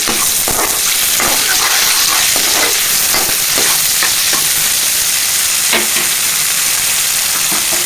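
Potato pieces for a Maharashtrian aloo poha sizzle loudly in a hot pan while a spoon stirs them, with steady frying hiss and repeated scraping clicks throughout, no talking.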